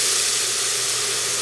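Onions, garlic and ginger hit a quarter inch of smoking-hot oil and give off a loud, dense, steady sizzle and hiss, heard close with no talk.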